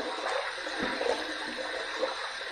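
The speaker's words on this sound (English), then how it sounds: "I'm going to rinse, throw a little water up there." Water splashes and runs steadily while a razor is rinsed, a close, continuous wash of flowing water with small splashing bursts and no talking.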